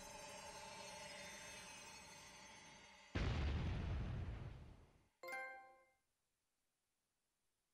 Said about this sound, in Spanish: esa explosión que suena de fondo de repente